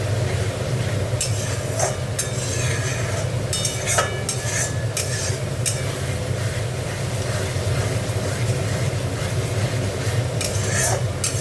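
Spice paste for doi katla fish curry fries and is stirred in a pan, giving a continuous soft sizzle with occasional scraping clicks over a steady low background hum.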